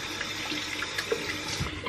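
Water running from a bathroom tap onto wet hands, a steady close splashing stream with small irregular drips throughout.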